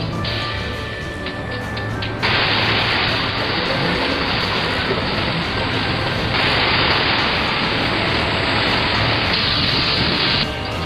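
Waterfall in Utah blown upward by strong wind, a steady loud broadband roar of rushing water and gusting wind that swells sharply after a couple of seconds and holds constant throughout.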